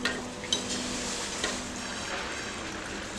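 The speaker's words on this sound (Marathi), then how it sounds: "परतून घेऊया. परत एकदा परतून घेऊया." Food sautés in a pan with a continuous soft sizzle. A few sharp scraping knocks from stirring break in near the start, close and moderately loud.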